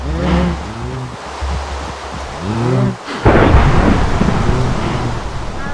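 A thunderstorm in the video game Survivalcraft: steady rain hiss runs throughout, and a loud, close thunder crack breaks partway through and rolls into a long, heavy rumble.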